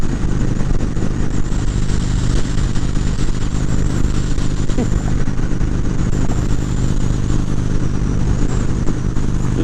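A Harley-Davidson Road King rides along the interstate with a loud, steady engine drone and heavy wind roar filling the whole span without a break.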